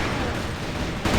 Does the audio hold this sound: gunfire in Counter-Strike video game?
yes